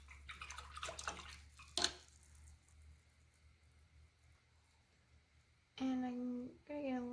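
An acrylic paintbrush being rinsed in a water cup, with swishing and clinking water sounds near the start, a quieter stretch, then a voice speaking at the end.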